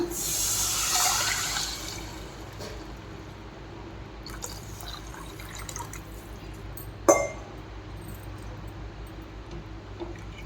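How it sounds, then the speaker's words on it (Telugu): Tamarind juice is poured into a pot while Telangana billala charu cooks. A soft, hissing liquid pour is strongest in the first two seconds, then fades into a low background with one sharp clink near seven seconds. "చింతపండు రసం పోస్తున్నా"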